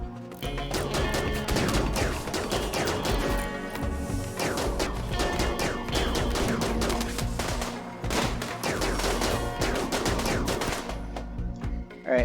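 Gunfire from a Rimworld colony battle, with dense volleys of shots and crashing impacts rattling continuously for the whole stretch, loud and busy with no voices over it.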